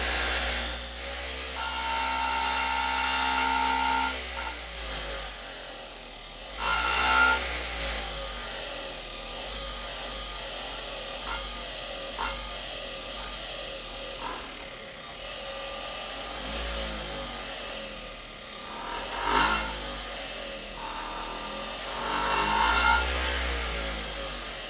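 An electric motor spinning a plasma ball revs up toward full speed, producing a loud, steady whirring drone with periodic surges and swells throughout.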